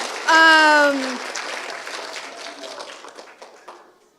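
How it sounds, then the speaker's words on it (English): An audience at a homeschool Christmas program claps after a voice at the start. The applause is scattered and modest and fades out over a few seconds. "Round of applause."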